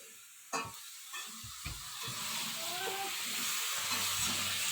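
Fish fries in a home kitchen pan, a faint steady sizzle and hiss that grows fuller after a few soft knocks and stirring clatters at the start.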